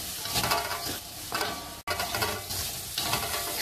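Loud sizzling of garlic and shallots frying in a hot pan, with stirring scrapes and a brief break midway, no talking.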